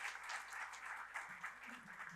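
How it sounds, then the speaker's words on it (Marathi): An audience at a business fair breaking into steady, even applause for a sponsor, heard faint and distant as a continuous wash of clapping. "एकदा जोरदार टाळ्या आपण पितांबरी ग्रुपसाठी"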